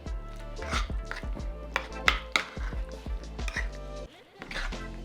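A utensil mixes seasoning, diced tomato and onion together in a bowl, producing a string of close, sharp knocks and scraping clatters in an irregular rhythm, with a brief pause near the end.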